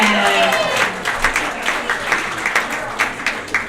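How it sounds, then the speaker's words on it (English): Audience applause at a chamber of commerce awards ceremony, a steady patter of many hands clapping with some louder individual claps, rising briefly and sustained throughout, with faint voices mixed in. "How about a big round of applause for Courtney Conlon?"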